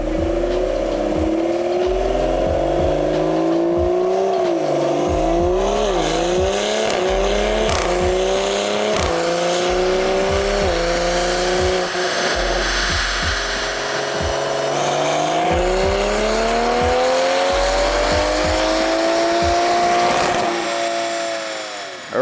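A tuned Toyota Supra with a B58 engine makes a full dyno pull. The loud, steady engine drone climbs in pitch over roughly twenty seconds with small dips between gears, then cuts off at the end.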